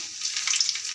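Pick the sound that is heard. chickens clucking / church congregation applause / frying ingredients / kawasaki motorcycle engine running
frying ingredients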